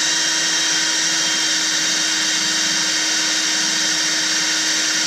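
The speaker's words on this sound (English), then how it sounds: "I'm still drilling with the drill pump, pumping fluid in there" A drill drives a small pump pushing fluid during a repair on an RV hauler semi truck, giving a steady, loud, unbroken whine with a constant motor hum throughout and no voices.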